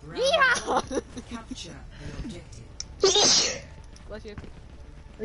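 A sharp sneeze bursts out mid-clip during an Overwatch match, loud and close, surrounded by game announcer voice lines and effects with people talking before it.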